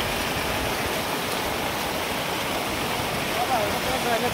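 A river in flood after extreme rainfall rushes past in a steady, dense roar of churning water, close and continuous throughout without a break.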